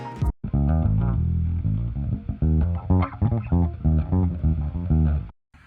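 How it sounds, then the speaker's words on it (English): Electric bass guitar track recorded in Logic Pro, playing a steady line of plucked notes with a low background noise underneath, close and fairly loud, with no voices. "this is what the bass sounds like"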